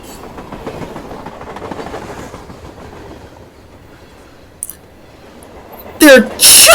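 A long freight train rolls past with a steady rumble and rhythmic clatter of wheels that fades toward the end, followed by a couple of sharp louder bursts.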